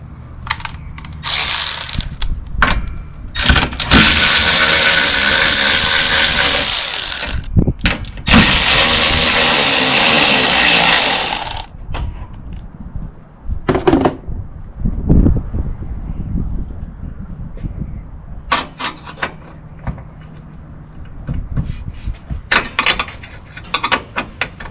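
Ratcheting wrench clicks in bursts while bolts come off the front grille of a 2014 Toyota Sienna minivan, loud sustained runs of rapid ratchet pawl clicking broken by pauses and scattered handling clatter.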